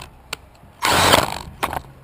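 A power drill drives screws into a Traxxas Stampede RC truck, a short close whirring burst in the middle between fainter clicks and handling taps.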